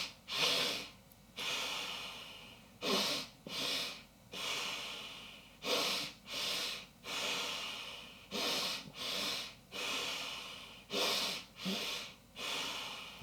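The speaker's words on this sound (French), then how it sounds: "je vais faire une expiration par le nez. C'est une expiration complète." Repeated forceful nasal exhalations during a breathwork exercise, about a dozen rhythmic breathy bursts in steady waves, close and clear, with no speech.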